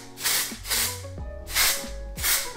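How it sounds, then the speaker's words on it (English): Texture spray for hair, aimed at a section before teasing, released in four short hissing bursts with brief pauses between, close and fairly loud. "the way I do that is by using my texture spray"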